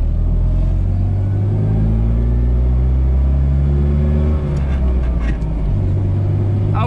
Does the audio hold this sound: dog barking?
no